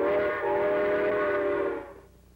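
A voice imitates a train whistle in a vintage 1950s–70s toy commercial, holding a single steady, reedy whistling tone for about two seconds before it cuts off.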